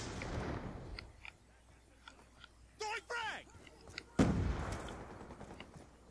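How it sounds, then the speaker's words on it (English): Concussion grenades going off in the Black Ops 2 multiplayer video game, heard as a few short muffled bursts followed by a louder blast, amid quieter gunfire and in-game noise. "Just throwing random concussion grenades."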